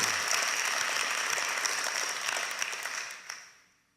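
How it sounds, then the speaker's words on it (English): Inmates in an Alaska prison applaud a visiting speaker with moderate, steady clapping that tapers off and fades out over the final second. "You can applaud."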